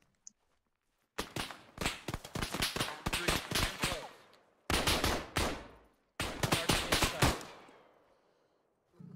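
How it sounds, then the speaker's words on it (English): Bursts of enemy rifle and automatic gunfire in the video game Insurgency, sharp rapid cracks in three loud clusters separated by brief silences, close and dense. "Enemy fire."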